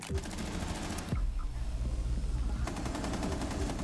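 Rapid automatic gunfire from the Rainbow Six Extraction video game rattles in fast, evenly spaced bursts, stopping briefly before resuming, loud and close throughout.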